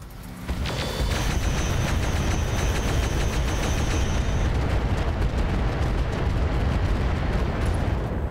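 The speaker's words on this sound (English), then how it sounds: "Let's go ahead and fire on the Wolverine with improved rounds and get that eliminated." A heavy barrage of weapon fire and explosions pounds a Wolverine mech in the video game RogueTech. After a short lead-in, a continuous roar of booms and blasts stays loud and dense throughout.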